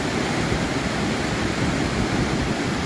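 Cayuga Fall waterfall in Ricketts Glen State Park, a steady loud broadband roar of rushing, splashing water heard close, with no talk.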